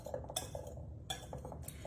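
A whisk clinks and scrapes against a bowl as dry ingredients for lemon blueberry mini muffins are mixed, with quick, light, rhythmic metallic taps and stirring strokes, fairly faint and close.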